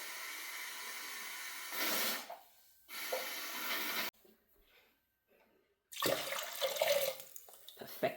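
Water from a tap gushes into a measuring jug in a kitchen, filling in two steady runs, pausing briefly, then starting again with a rising, fuller pour.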